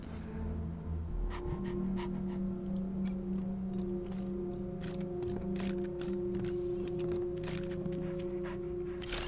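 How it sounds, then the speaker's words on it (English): Dogs pant rapidly outside in the Wasteland 3 video game, a steady breathy rhythm over a low hum, with scattered light clicks and ticks throughout and no talk. "Can hear the dogs outside just panting like crazy."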